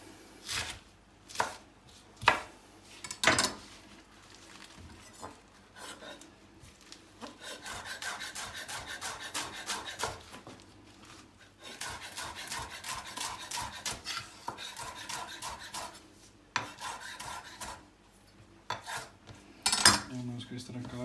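A knife chops lettuce into small pieces on a board, starting with a few separate heavy strikes, then fast steady runs of close, sharp cuts with brief pauses between bursts, no talk.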